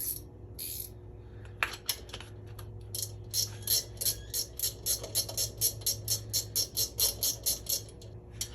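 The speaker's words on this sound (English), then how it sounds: "So now I could just go back to a ratcheting wrench" Ratcheting wrench driving a homemade thread chaser, a rapid run of sharp metallic clicks in a steady rhythm, close and fairly loud, building up through the second half after a few scattered taps.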